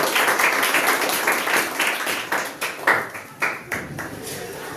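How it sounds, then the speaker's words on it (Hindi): Applause at a student award ceremony, dense clapping from the audience that thins into a few distinct louder claps toward the end, with faint voices underneath. "के जोरदार तालियों से बधाई।"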